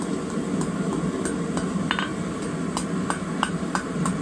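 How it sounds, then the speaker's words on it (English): A hammer gently taps the edges and corners of a hand-forged steel snake hook, giving light, fairly regular metallic clinks spaced through the clip over a steady background hiss. "just gently tap in these corners here, just to smooth that out a little bit"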